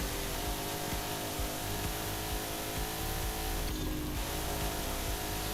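Turbocharged V8 car engine in the racing game Forza Horizon 5, droning steadily and loudly through the whole stretch with rough low rumble and a brief brighter whoosh near the end, no voices.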